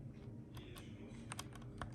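Typing on an Acer Predator Aethon 500 keyboard with clicky Kailh Blue switches: scattered sharp keystroke clicks, a few in quick bursts, close and fairly quiet over a steady low background hum.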